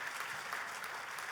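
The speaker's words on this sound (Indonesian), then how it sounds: "Tepuk tangannya yang paling meriah." Church congregation applauding with enthusiastic clapping, a dense, steady burst of many hands filling the room without pause.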